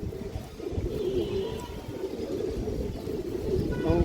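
Several female fancy pigeons, satin-type breeds among them, keep up a low rolling coo, repeated calls blending into a steady murmur with faint rustling and a slight rise at the end.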